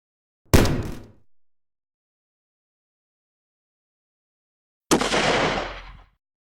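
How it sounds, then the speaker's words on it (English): Two separate sound-effect gunshots, one from a pistol and one from a rifle, each a sharp close crack with a short decaying tail, separated by a few seconds of silence. "a normal sounding pistol and rifle shot"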